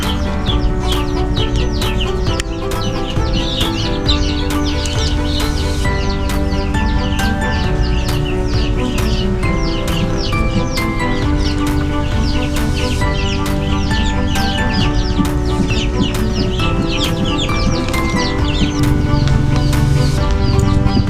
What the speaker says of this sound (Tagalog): Mayroong mga naglilimlim din na manok